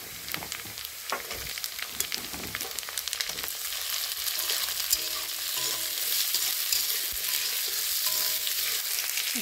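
Cut potatoes frying in oil with onions and green chillies, a steady broadband sizzle running throughout, with irregular scraping and clacking from stirring layered on top; close and fairly loud, no talking.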